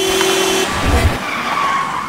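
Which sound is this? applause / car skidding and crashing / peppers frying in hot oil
car skidding and crashing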